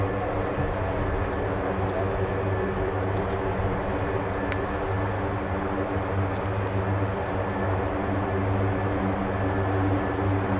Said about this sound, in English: We've just got the MC-130J that you can hear in the background.